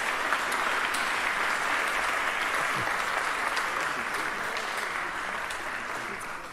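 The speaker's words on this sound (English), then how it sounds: "it's appropriate to applaud." A church congregation applauds during a Sunday worship service, steady broad clapping from many hands filling the room at an even level throughout, with a few faint voices mixed underneath.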